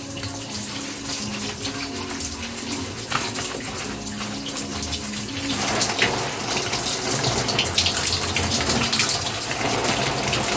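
Water runs steadily from a tap or shower while waist-length hair is washed for a second time, a continuous close gush that grows louder and brighter about halfway through.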